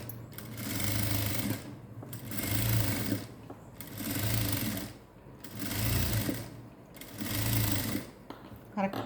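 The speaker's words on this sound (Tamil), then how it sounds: "இந்த ப்ளவுஸ்க்கு நான் ஸ்டிச் பண்ணுறேன், இன்னொரு ஸ்டிச் போட போகிறேன், லாங் ஸ்டிச்." A sewing machine runs long stitches on a blouse in five regular bursts, each a couple of seconds of close, rattling whir separated by short pauses.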